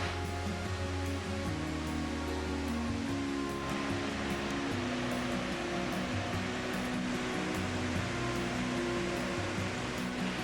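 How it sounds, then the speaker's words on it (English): Burney Falls in McArthur-Burney State Park, California, gives a steady, dense roar of falling water that continues unbroken for about ten seconds, with no talk. "go check out the waterfall one more time before ending this video"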